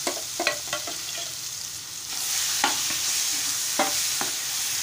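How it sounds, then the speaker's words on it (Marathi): A mixture of raival mango is poured into hot oil with fried garlic and stirred, giving a loud continuous sizzle broken by several sharp scraping clicks of the spoon against the pan. "आता आपण रायवळ आंब्याचं जे मिश्रण होतं ते घालूया आपण"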